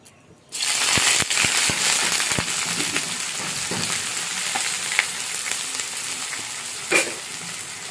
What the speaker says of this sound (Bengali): তেলটা পুরোপুরি গরম হয়ে গেছে। এবার দিয়েছি পেঁয়াজ।